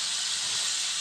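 Onions, green chillies, potatoes and tomatoes with salt fry in a pan for a potato and egg curry, giving a continuous bright sizzling hiss, close and steady.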